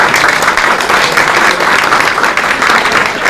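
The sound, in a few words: applause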